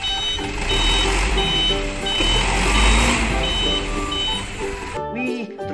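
A toy sand truck gives steady, loud repeated reversing beeps that run almost without pause for about five seconds, then break off abruptly into near silence.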